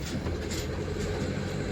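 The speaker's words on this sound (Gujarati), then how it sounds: "ટ્રેન આવતી હોય તો ઘણી વાર ઊભી રહી જજો ભાઈ. અમારી એક્સપ્રેસ જાય છે." Close, heavy rumble of an express train rushing past a level crossing, a dense continuous roar with rattling wheel noise throughout.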